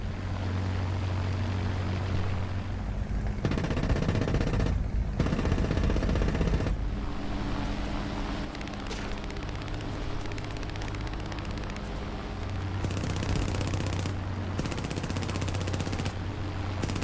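Machine guns fire long, dense bursts in an air battle over Malta between RAF Hurricanes and German aircraft, the harsh rattling starting and stopping over a steady engine drone.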